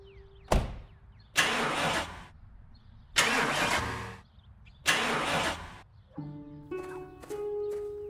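A truck engine cranking repeatedly in four long bursts, each cutting out without catching, then a sputtering tonal rumble, all fairly near and loud in a quiet night setting with no talk.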